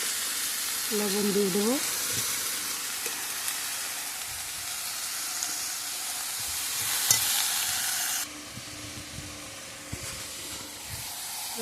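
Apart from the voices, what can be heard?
raw onions added to a frying pan, sizzling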